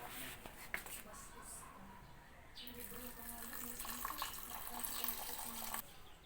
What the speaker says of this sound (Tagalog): Pangalawa, lagyan ito ng kunting tubig.